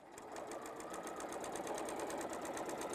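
A sewing machine runs steadily, stitching a quarter-inch seam around a Kimberbell "A Little Birdy Told Me" pillow, its needle ticking in a fast, even rhythm close by with no voices.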